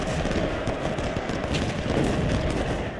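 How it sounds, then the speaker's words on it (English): Dense, continuous crackle of massed musket gunfire from the Civil War video game Ultimate General Civil War, a steady rattling volley at moderate volume with no clear individual shots. "Spackle and crackle, which is what the sound of gunshots sound like."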